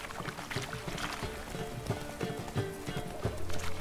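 Hoofbeats of Roach, a horse in The Witcher 3: Wild Hunt, clip-clopping in a steady rhythmic gait, moderately loud under game music.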